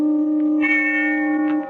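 A bell in a 1948 radio drama rings with one sustained, reverberant tone that hangs steadily and gently fades, heard alone without voices.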